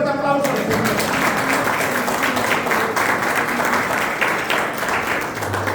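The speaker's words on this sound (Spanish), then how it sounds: "Denle un fuerte aplauso." A church congregation at a Spanish-language service gives loud, sustained applause, a dense wash of many hands clapping together that stays steady and full for several seconds.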